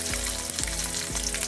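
Garlic fries in hot oil for chicken kottu, a loud, close sizzle with rhythmic stirring scrapes about every half second and no talk.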